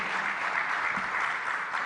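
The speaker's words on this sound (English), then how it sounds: "So please give them a big round of applause, a huge round of applause." Sustained applause from a summit audience at a startup conclave in Goa, a steady dense wash of clapping that holds at even loudness throughout with no break.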